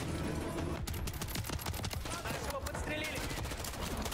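Gunfire in Call of Duty Modern Warfare 3, rapid continuous bursts of automatic shots forming a dense rattling barrage, loud and constant, with voices underneath.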